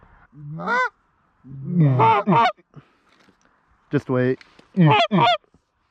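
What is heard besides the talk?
goose honking overhead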